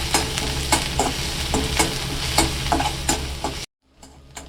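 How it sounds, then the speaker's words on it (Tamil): Chopped onion, ginger, garlic and green chilli sauté in hot oil in a pan for veg momo filling, a steady close sizzle broken by regular spatula scrapes and taps, then cutting off abruptly near the end. "இதை நல்லா வதக்கிக்கலாம் கொஞ்சம்."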